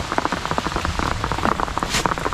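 Heavy rain pours steadily on a surface, with a dense patter of drops close by that goes on without a break and no voices.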